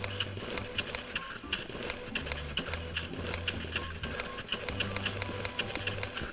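A toy pet-analyzer machine printing in the Sneaky Sasquatch video game gives off a steady mechanical whir with repeated low buzzing pulses and fast clicking. The sound runs on its own, with no talk over it.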